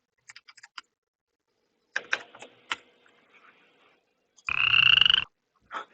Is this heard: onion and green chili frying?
no